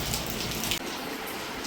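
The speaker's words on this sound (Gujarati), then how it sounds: "ચાલો વરસાદ આવે." Steady rain falls with a soft, even hiss, close by and without talk, with a brief dip partway through.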